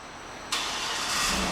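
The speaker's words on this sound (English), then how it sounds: "and the car starts right up" A 2008 Cadillac Escalade AWD started by remote start: silence, then the engine catches abruptly and settles into a loud, steady idle close by.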